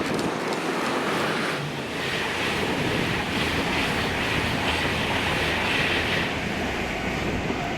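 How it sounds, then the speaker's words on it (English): Electric Class 91 locomotive 91127 hauling a King's Cross to Edinburgh express with a driving van trailer, passing as a steady continuous rumble and rush of rail noise with wind buffeting the microphone. "1F24, the 1957 London King's Cross to Edinburgh with 91127 and an unidentified 82"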